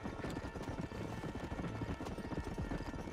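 Steady galloping hoofbeats of a horse in Red Dead Redemption, a fast continuous clip-clop rhythm over a constant low ambient rumble, near and even in loudness throughout.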